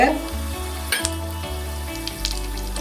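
Urad dal, fenugreek seeds, dried chillies and peppercorns dry roast in a pan, giving soft crackling and rattling with a few scraping stirs and spoon taps against the pan.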